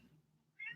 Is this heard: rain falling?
no